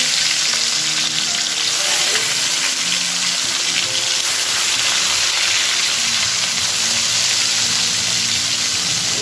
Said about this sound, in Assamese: আজি ইলিছ মাছ এতিয়া মই ভাজি